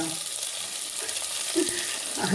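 Onion pieces and curry leaves frying in a pan for a cluster bean (goru chikkudu) dish, giving a steady, close crackling sizzle with a few brief louder spits and no talking.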